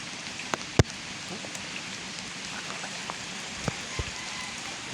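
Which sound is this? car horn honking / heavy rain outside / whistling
heavy rain outside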